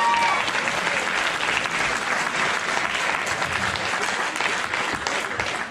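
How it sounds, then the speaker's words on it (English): Sustained audience applause fills a talent show at a school academy, a steady dense roar of many hands clapping continuously from start to finish without pause. "Massive round of applause for Evie."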